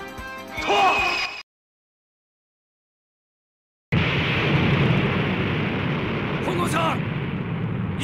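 An explosion in the PlayStation game Kamen Rider V3 bursts in after a brief silence as a loud, sustained rumbling roar, preceded by a short voiced game sound.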